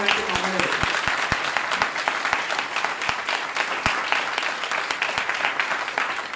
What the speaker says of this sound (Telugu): ఈ మాటలు నమ్మిన వారు గట్టిగా చప్పట్లు కొట్టారు.